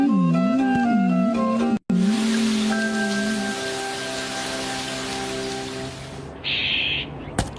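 Rain falls in a Hindi-dubbed Shinchan cartoon episode, a steady hiss that rises in after a short burst of tonal music and voice, holding evenly for several seconds before a brief higher tone cuts in near the end.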